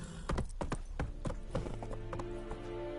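Horse hooves galloping in a PS4 video game, a quick rhythmic run of clip-clop beats up close, settling into a steadier sustained tone toward the end.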